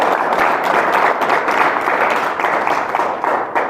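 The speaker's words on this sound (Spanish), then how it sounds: "Pues le agradecemos con un fuerte aplauso" Steady applause from a lecture audience, many hands clapping together at a constant, fairly loud level throughout.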